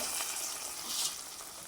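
Sizzling tempering of browned onions poured into a mackerel fish curry, a steady bright crackle and hiss that swells briefly near the end, close by with no talking.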